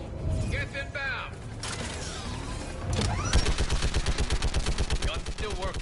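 A turret gun in Mass Effect 3 starts up with mechanical clanks and whirs, then fires a fast, even stream of heavy rounds in a loud rhythmic burst, with brief game chatter early on.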